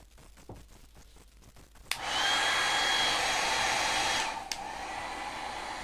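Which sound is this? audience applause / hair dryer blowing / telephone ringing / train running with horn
hair dryer blowing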